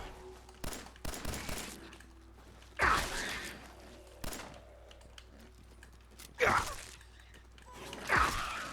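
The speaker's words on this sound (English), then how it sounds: "How the hell am I missing all those shots?" Gunfire in the video game Fallout 4: several sharp single shots in an irregular sequence, some louder and ringing, interspersed with quieter clicks and mechanical sounds.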